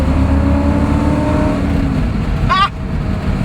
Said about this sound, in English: We're cruising along at 45 miles an hour